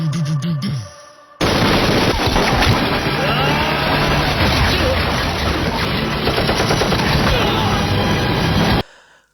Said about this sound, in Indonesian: Adera dan pasukannya dihujani peluru oleh semua anak buah Rocky